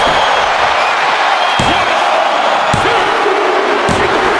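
A wrestler's Penta Driver slam in the WWE 2K25 wrestling game, with several sharp heavy impact thuds over a loud continuous arena crowd roar, a commentator's voice briefly audible.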